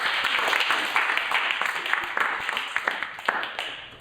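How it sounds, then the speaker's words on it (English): Audience at a community housing forum applauding a guest speaker, a full burst of many hands clapping that thins into scattered individual claps toward the end. "Round of applause."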